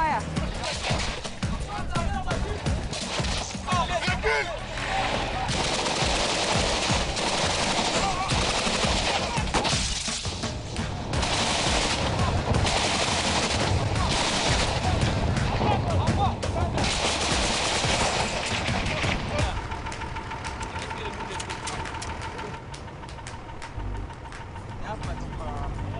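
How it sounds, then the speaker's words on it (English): Gunfire from a military vehicle during fighting against Boko Haram in an attack-prone area, sustained loud bursts of automatic fire over engine rumble that continue for most of the stretch before easing near the end. "The vehicle's gonna fire."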